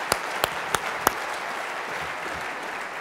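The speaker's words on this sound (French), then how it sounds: "Et je vous demande d'ailleurs de les applaudir encore une fois" Audience applause at a conference conclusion, a room full of steady clapping with four sharp, close claps in the first second, then an even, sustained patter.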